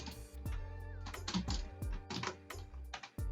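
Keys clatter on a computer keyboard in short irregular bursts of clicks, close and fairly quiet, with brief pauses between clusters of keystrokes.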